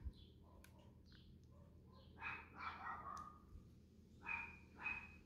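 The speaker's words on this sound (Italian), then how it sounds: "C'è sempre il cane di mia zia che abbaia, in continuazione, sempre abbaia." A small dog barks a few times at a distance, faint sharp yaps spread over several seconds against a quiet indoor background.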